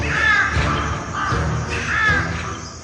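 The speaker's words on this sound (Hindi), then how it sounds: "कुटिया की छत पर बैठे काले कौवे" Black crows on a hut roof caw harshly in repeated bursts, three loud raucous calls spaced about a second apart, near and unaccompanied by speech.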